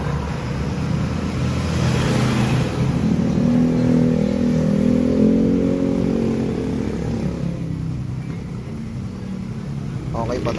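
A Yamaha Fazzio 125 scooter engine idles steadily close by, its hum rising a little midway and then fading, with a person talking over it.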